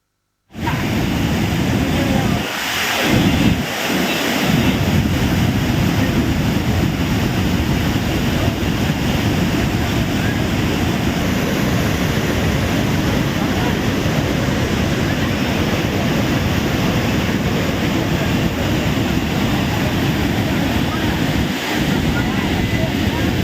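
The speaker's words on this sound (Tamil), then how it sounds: "தீவிரமடையும் மழையால் குற்றால அருவிகளில் கடும் வெள்ளப்பெருக்கு" The Courtallam waterfalls roar in heavy flood, a dense, continuous wall of rushing water close by that lasts the whole stretch, with brief wind buffets near the start.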